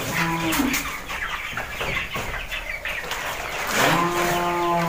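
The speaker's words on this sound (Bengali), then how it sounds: "200টা মুরগি আছে, এগুলা ব্রয়লার মুরগি।" About two hundred broiler chickens in a small farm shed cluck and squawk in a dense, continuous chorus, close and loud, with a few sharper calls rising at the start and near the end.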